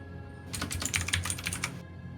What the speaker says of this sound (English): we hear the clicky-clacks of someone typing away on a keyboard